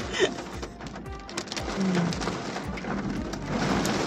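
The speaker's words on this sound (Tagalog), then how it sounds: "Oh, rain, rain, rain." Steady rain falls outside during a school run, a continuous broadband hiss with scattered drop impacts and low rumbles, moderately loud throughout with no clear talk.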